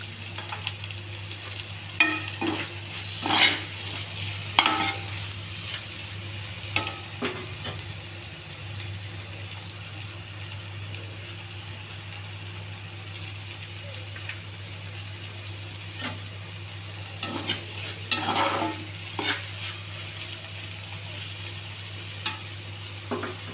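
Raw banana (aratikaya) fry sizzles in a pan while a spoon stirs it in scraping bursts, close and clear over a low steady stove hum, with quieter stretches between stirs.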